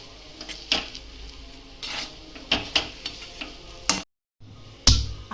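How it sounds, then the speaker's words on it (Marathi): Almonds being stirred into sweet potato halwa (ratalyacha shira) in a pan, with a spoon scraping and clinking against the metal in several separate strokes over a faint sizzle, close by, with no talking. "बदाम टाकल्यानंतर आपल्याला मिक्स करून घ्यायचं."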